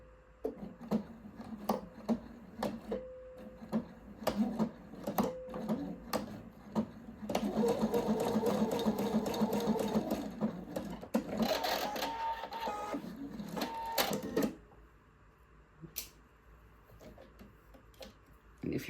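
A sewing machine stitches mesh edge seams together with a 6 millimeter seam allowance, running in short ticking bursts and then a sustained whirring stretch before stopping, close up and without talking.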